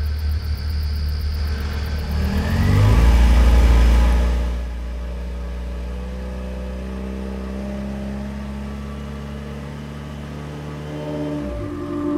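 A car engine revs hard to a loud rumbling peak, then settles into a steady droning run as the vehicle pulls away, with a short shift in tone near the end.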